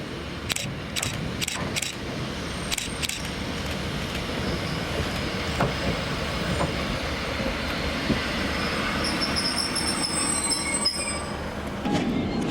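A triple set of ScotRail Class 156 diesel multiple units passes on the West Highland Line, with a steady rumble throughout, sharp wheel squeals and clicks near the start, and high flange squeals later on.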